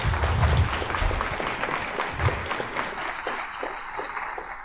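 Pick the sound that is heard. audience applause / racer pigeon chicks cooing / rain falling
audience applause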